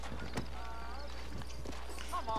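Horse hooves clopping in Red Dead Redemption on Xbox 360/PS3, a light steady clip-clop under a constant game hum, with someone talking over it.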